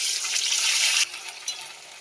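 Onion paste sizzles loudly in hot oil. The hiss drops sharply partway through, then continues more softly with small crackling flare-ups.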